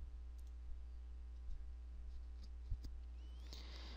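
A computer mouse gives a few faint, isolated clicks, one around the middle and a sharper one later, over a low steady hum in a quiet room.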